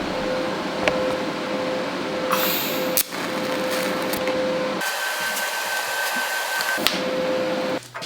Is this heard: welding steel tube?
yes